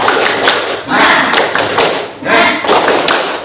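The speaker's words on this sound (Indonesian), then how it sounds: "Mari kita tepuk semangat dulu." Classroom group doing a rhythmic spirit clap together: loud bursts of many hands clapping in quick patterned runs, with pauses between phrases and no talking over it.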